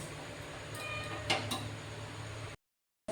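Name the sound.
stirring vermicelli (simui) frying in a pan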